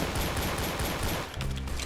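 Rapid shots from a gun in Roblox Arsenal crackle in a dense burst, then break off abruptly near the end, followed by a brief lower rumble.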